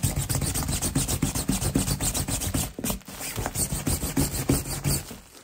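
A brush scrubs back and forth across the fabric of a trench coat collar in quick, steady rasping strokes, close and clear with no voices.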